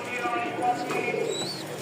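Pigeons for sale coo softly nearby in low, rolling murmurs, with faint chirps and shuffling in the background.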